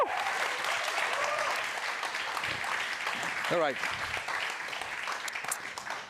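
Warm audience applause at a live stage event during Dutch Design Week, sustained clapping throughout with a cheer and a brief spoken voice from a presenter partway through.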